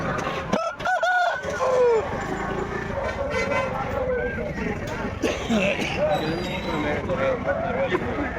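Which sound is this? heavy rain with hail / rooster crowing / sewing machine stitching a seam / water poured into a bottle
rooster crowing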